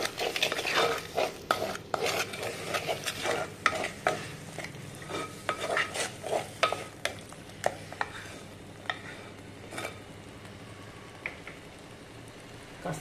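Crab curry seasoned with chili powder fries in a pan with a steady close sizzle, punctuated by frequent scraping and clinking stirs of a spoon against the metal, moderately loud throughout with no speech.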